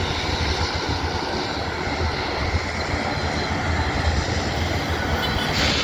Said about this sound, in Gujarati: પ્લેન ટેકઓફ જોઈએ